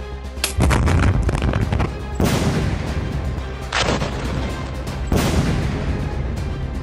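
Explosive charges packed into tunnels in Gaza detonate in a series of four heavy, loud blasts, each a deep booming crack that rolls into a long rumbling roar.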